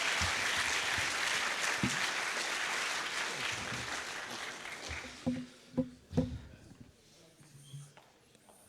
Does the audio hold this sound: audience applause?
yes